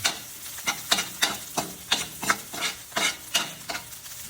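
Garlic and onion browning in a pan for native chicken tinola, with a light sizzle under a regular run of about a dozen clicking, scraping spatula strokes, close up.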